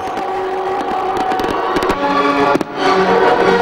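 Fireworks going off in rapid succession, loud crackling and popping bursts over a dense, continuous roar, with a sharp bang near the end.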